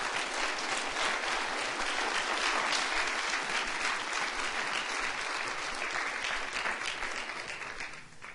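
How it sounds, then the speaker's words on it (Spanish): Congregation at a Spanish-language church sermon applauding together, a dense, sustained wash of clapping that holds steady for several seconds before tapering slightly at the end. "¿Cuántos le dan un aplauso al Señor Jesús por eso?"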